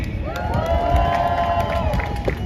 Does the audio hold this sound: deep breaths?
no